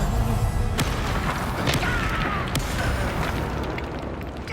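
Blasting-spell explosions in Hogwarts Legacy: several sharp bursts land about a second apart over a dense, loud rumbling game soundscape, each a quick broadband crack that fades into the background din.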